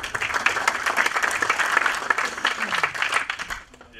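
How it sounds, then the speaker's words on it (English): A conference audience at FOSDEM 2016 claps for the next speaker, dense applause lasting about three and a half seconds before quickly dying away. "A round of applause for our next speaker, please."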